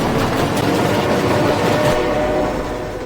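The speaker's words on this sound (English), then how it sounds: "ignore the train." A passing train fills the clip with a loud, close, continuous rumble and rattle of cars that eases off slightly toward the end, with no talking.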